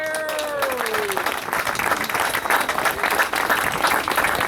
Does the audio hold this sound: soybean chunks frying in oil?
no